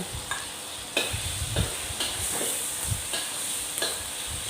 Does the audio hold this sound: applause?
no